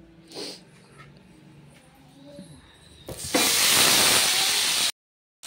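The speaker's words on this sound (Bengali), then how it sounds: "ওদিকে তেল গরম হয়ে গেছে, পেঁয়াজটা দেবো।" Onion dropped into hot oil in a pan for a thin chicken and potato curry bursts into a loud, close sizzle that holds for about two seconds after light kitchen clatter, then cuts off abruptly.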